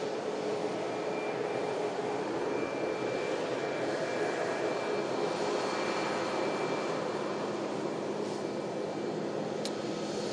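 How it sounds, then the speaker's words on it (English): Ryanair Boeing 737 Max jet arriving at Manchester Airport, heard as a continuous, fairly distant engine roar and rushing hum that stays even throughout without any clear peak. "Ryanair Max just arrived in from Warsaw"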